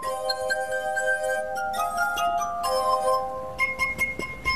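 Glass harp playing: bright, sustained ringing glass notes that shift pitch in short phrases, close and steady, with no voices.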